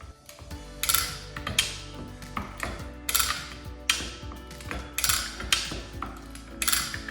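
A GoJack 4520 wheel dolly's release mechanism is cranked by hand, producing a series of loud metallic ratcheting clicks and clanks in an uneven rhythm, close up, with no voices.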